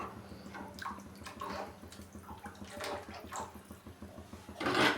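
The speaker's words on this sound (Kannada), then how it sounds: "ಗಟ್ಟಿ ಬೇಕಾ ತೆಳ್ಳೆ ಬೇಕಾ ನೋಡ್ಕೊಂಡು ನೀವು ನೀರನ್ನ ಹಾಕ್ಕೊಳ್ಳಿ" Water pours into egg keema sambar as it cooks, a faint gurgling splash that runs for several seconds and ends in a louder burst of pouring.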